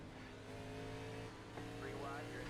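Xfinity race cars pull away at the start of an iRacing race at Chicagoland as the pace car leaves. A steady engine drone rises into revving, and a voice talks over it.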